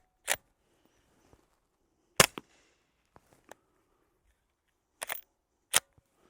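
A suppressed Mojave 9 rifle fires subsonic rounds, giving four sharp, short, muffled reports spaced a few seconds apart, with faint mechanical clicks between them and no talking.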